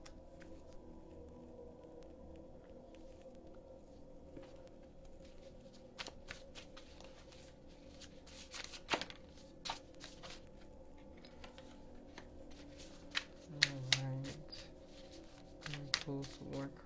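Tarot or angel cards being shuffled by hand during a collective card reading, soft riffling and slapping with a few sharper flicks, near and fairly quiet, alone without speech.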